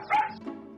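A dog gives a single short bark, fairly close and clear, with a brief softer tail after it and no talking.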